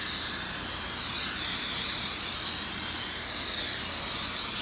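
Cooking spray hissing steadily into a cake pan that has a metal lid, a continuous close, loud aerosol spray lasting several seconds without pause.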